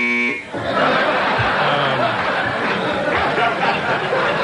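A loud, harsh game show buzzer sounds briefly at the start on Late Night with David Letterman in 1984, followed by a lively murmur of studio audience chatter and laughter.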